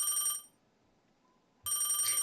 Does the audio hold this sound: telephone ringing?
yes